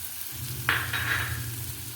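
Chopped shallots tipped into a hot pan of oil with green chillies send up a sudden hissing sizzle that settles into steady frying over a low hum, close and fairly loud, with no voices.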